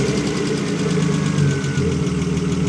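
A BMW E36 track car engine runs at a steady idle just after a service, a loud close low rumble with an even mechanical pulse and slight knocking texture, no voices.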